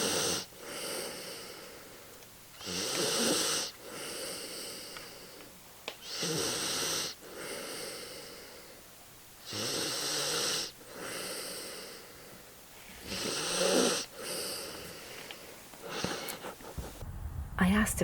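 Rhythmic snoring of an animal in its underground burrow, with regular wheezy, snorting breaths repeating every few seconds, fairly close and loud, heard alone.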